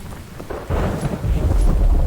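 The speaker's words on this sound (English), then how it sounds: "Alright, rain's coming in." Rain and rolling thunder in the crafting survival game The Infected, a loud low rumble building under steady rainfall, with no talk.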